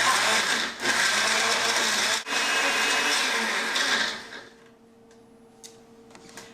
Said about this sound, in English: we're going to begin and blend all of these different ingredients